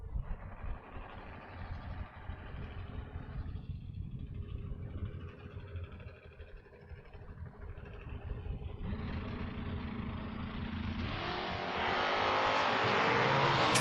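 Drag race cars, a third-generation Camaro and a Chevy-powered Mustang, rumble at low idle before engines build into a loud rising roar near the end as they launch.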